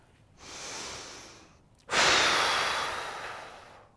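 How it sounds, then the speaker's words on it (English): A person takes a quick sniff in, then lets out a big forceful exhale, a loud close breathy rush that tapers off over about two seconds. "taking a big sniff, and a big blow out."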